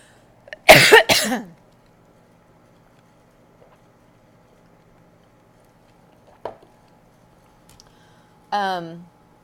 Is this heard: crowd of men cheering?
no